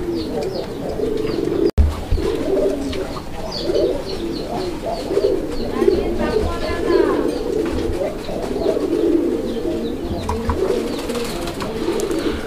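Raj-golla pigeons cooing steadily, a pair of birds calling in low repeated coos with some chirps over a busy background, no talk.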